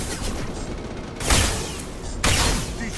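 Mass Effect 2 combat gunfire: a steady crackle of distant shots, punctuated by two sharp, louder blasts about a second apart.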